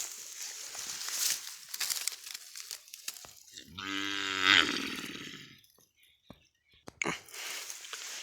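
A single drawn-out cow moo nearby, lasting about two seconds, between rustling and crunching noises.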